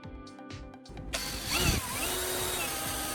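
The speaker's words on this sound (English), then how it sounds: "I'm drilling a hole in the side of the bottle itself." Power drill boring a hole in the side of a plastic bottle to fit a small metal valve, a steady close whirring buzz that starts abruptly and continues at an even level.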